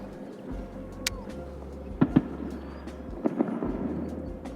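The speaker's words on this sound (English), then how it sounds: "Fireworks. That seems to be a thing in my videos these days." Distant fireworks pop in a few sharp bursts, two near the middle and two more toward the end, over steady outdoor water and boat ambience during a kayak bass-fishing outing.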